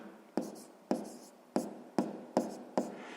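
Pen strokes on paper while numbers are written out during a sixth-grade math lesson, six sharp scratching strokes at a steady rhythm, close and clear, with no talking.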